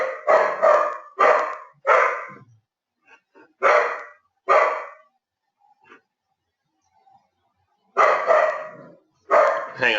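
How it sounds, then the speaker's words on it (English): A pet dog in a home trading room barks repeatedly nearby in loud bursts, a quick run of four barks, then scattered pairs separated by quiet gaps and faint small noises, with no talking. "it's my dog"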